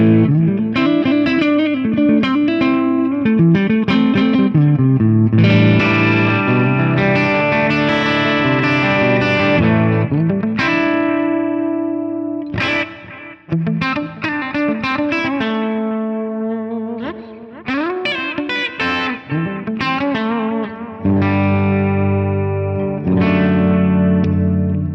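Clean electric guitar through a Fractal FM9 modeler, played on the neck pickup with delay and reverb, rings out sustained chords and melodic lines whose echoes trail into the gaps, loud and alone without voices.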